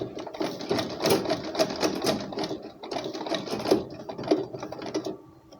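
Sewing machine stitching a buttonhole on a shirt, a close rapid mechanical chatter running in bursts with short pauses, fading out at the end.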